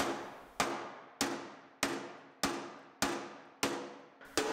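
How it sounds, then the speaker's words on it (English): Repeated sharp metallic hammer blows on a dented metal fender of a Cronkhite tilt bed equipment trailer, about eight evenly spaced strikes, each ringing and decaying before the next. "I'll straighten out the edge of the fender because I just wanted to continue hammering"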